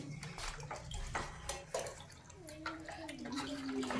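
Water sloshing and splashing as it is scooped from a bucket and poured in a classroom, with children's voices chattering throughout.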